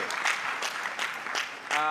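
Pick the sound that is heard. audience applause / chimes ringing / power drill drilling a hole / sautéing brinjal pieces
audience applause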